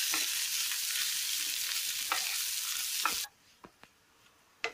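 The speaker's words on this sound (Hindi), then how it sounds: "अब हम इसमें मैश किया हुआ आलू डाल देंगे और इसे हम अच्छी तरह से मिक्स करेंगे" Mashed potato samosa filling with peanuts being mixed in a hot pan, a bright dense sizzle with occasional spoon scrapes that drops away suddenly, leaving a few sharp scraping taps.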